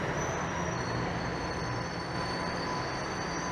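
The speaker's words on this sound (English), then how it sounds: "that is a southbound train rolling in" A southbound subway train rolls into Yorkdale station in Toronto, rumbling steadily nearby, with a thin high squeal of wheels running above the broad low roar.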